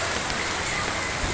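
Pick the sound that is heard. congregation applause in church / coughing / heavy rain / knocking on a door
heavy rain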